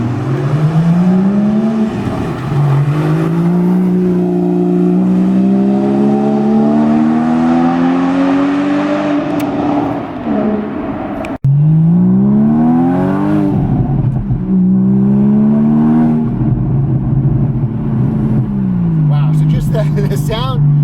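A Porsche flat-six sports car speeding down a road, its engine climbing through repeated gear changes in loud rising revs, followed by another hard acceleration run, close and dominant throughout.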